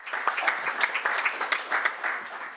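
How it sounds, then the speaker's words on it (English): Steady applause from an audience at a city council meeting, a dense patter of many hands clapping at moderate distance, continuous and fairly even throughout. "I think that deserves a round of applause as well"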